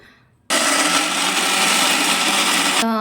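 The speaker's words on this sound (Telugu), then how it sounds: "ఇప్పుడు దీన్ని మొత్తం ఫుల్ ఒకసారి మిక్సీ పట్టాలి, కానీ మొత్తం మెత్తగా పట్టొద్దు, కచ్చపచ్చగా పట్టుకోవాలి." A mixie mixer grinder coarsely pulses chutney ingredients, kicking in abruptly after a faint moment and holding a loud, steady whirring roar for over two seconds before cutting off.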